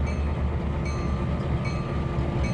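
A train hauling boxcars in the Trainz 2022 simulator gives off a steady, loud, continuous rail rumble with faint metallic tones, constant throughout and without speech.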